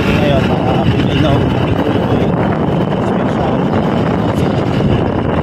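Motorcycle ride to a market in the Philippines, a loud continuous engine drone mixed with heavy wind rush against the microphone, with a voice talking over the noise.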